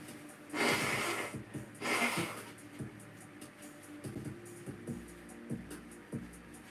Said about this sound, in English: Sorry, I've got to blow my nose.